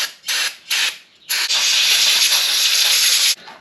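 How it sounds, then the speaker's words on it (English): An aerosol can spraying into a part on a junkyard Ford F100, two short hissing bursts followed by one long sustained hiss, close and loud. "Maybe I'm going to spray that out."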